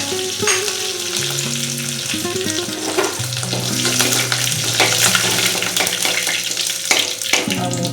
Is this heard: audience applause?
no